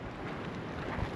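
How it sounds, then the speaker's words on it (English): Strong gusts of wind, at 40-plus miles per hour, batter the microphone at an outdoor homestead fence build, producing a steady loud rumbling roar with brief surges. "It is windy. We're having gusts of 40 plus miles per hour out here"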